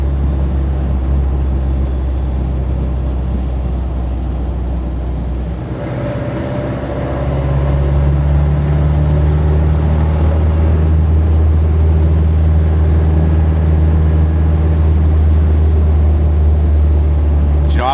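Diesel Jeep Wrangler YJ cruising at 50 mph in third gear, a loud steady low engine drone and road rumble from inside the cab that shifts pitch partway through and then holds a constant tone.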